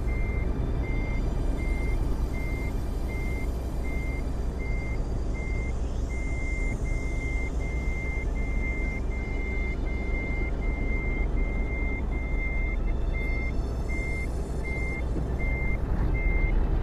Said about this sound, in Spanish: Lo único malo de los carritos es que suenan como camiones